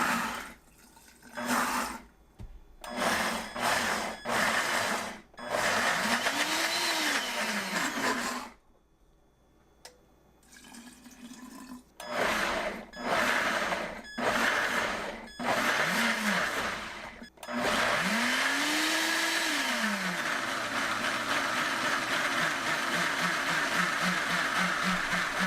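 A Kuvings power blender blends chickpeas, olive oil, salt and water, running loud and close in several bursts with brief pauses, then a long continuous whirring run with the motor pitch rising and falling as the contents churn.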